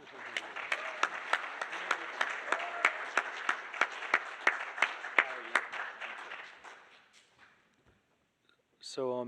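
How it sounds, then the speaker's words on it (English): An audience at an award ceremony claps steadily for several seconds, with a few distinct sharp claps standing out, then the applause fades to near silence before a brief sound at the end. "Applause or welcome."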